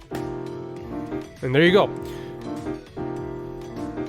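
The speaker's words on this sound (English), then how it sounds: "add a grand piano right here" Grand piano chords in Ableton Live ring out in a repeating pattern while a voice speaks briefly over the middle of it.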